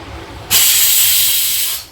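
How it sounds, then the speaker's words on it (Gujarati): A pressure cooker cooking dal lets off its whistle, a sudden loud, sharp jet of hissing steam that bursts in after a quiet moment, holds steady for over a second, then tapers off. No voices. "બીજી બાજુ દાળની સીટી પણ વાગે છે"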